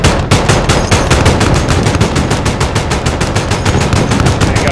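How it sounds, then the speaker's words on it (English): Helicopter gunfire in Call of Duty Modern Warfare: a loud, continuous stream of rapid, evenly spaced automatic shots, rattling away alone for several seconds. "Mike, here comes gunfire"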